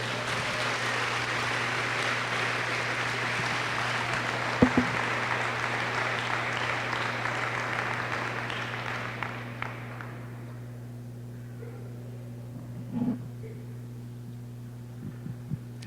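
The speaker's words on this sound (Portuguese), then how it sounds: "Dá uma salva de palmas para o Senhor." Congregation applause in a church: a broad wash of clapping over a steady mains hum, gradually fading out over the first ten seconds, leaving the low hum and a few faint knocks.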